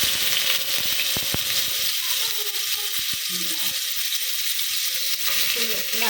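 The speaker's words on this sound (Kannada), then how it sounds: "ಇವಾಗ ಕುಕ್ಕರ್ಗೆ ಎಣ್ಣೆ ಹಾಕಿದ್ದೀನಿ ಇದು ರುಬ್ಬಿರೋದನ್ನ ಹಾಕ್ಬೇಕು" Continuous crackling sizzle of ground onion paste frying in oil in a pressure cooker, with sharp clicks and scraping of a utensil against the pot scattered throughout.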